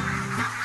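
Ducks used for pest control at an organic winery quack loudly in a dense, overlapping chorus, many birds honking together close by with no talk over them.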